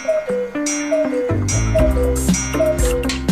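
A carved cuckoo clock with a little bird that pops out makes loud, close, steady ticking, joined by bright tonal chiming notes and mechanical clatter.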